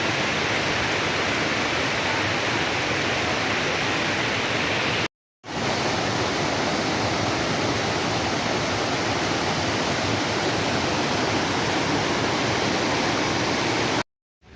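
A waterfall on a natural stream reshaped into a landscaped beauty spot in Vietnam roars in a dense, steady rush of falling water, loud and close, broken only by two brief cuts.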